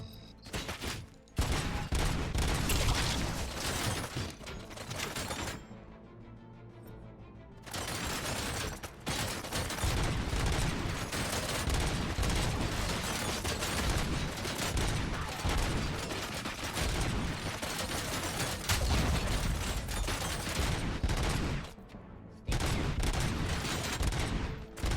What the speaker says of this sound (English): Oh, who's shooting? Who's shooting?